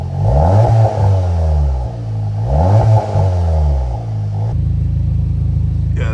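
A nearby car engine revs up and falls back twice in loud swells, then settles into a steady rumbling idle.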